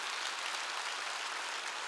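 A church congregation applauds during a Wednesday worship service, a steady, dense wash of clapping that fills the whole stretch at a moderate level, with no voices over it.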